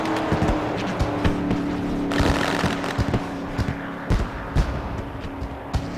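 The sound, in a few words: race car driving down the back stretch at Daytona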